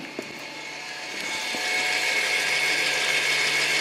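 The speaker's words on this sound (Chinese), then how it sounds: "电机呢，它自动退回去" A Mercedes GLE 350d diesel 4Matic's rear electronic parking brake motor retracts on release, a steady electric whir that swells after a second and then holds at a constant, fairly loud level, with no talking.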